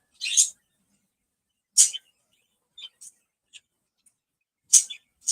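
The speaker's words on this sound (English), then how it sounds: "The birds are having a lot to say today" Short, bright bird chirps ring out sporadically, a few sharp calls separated by quiet gaps, fairly close by.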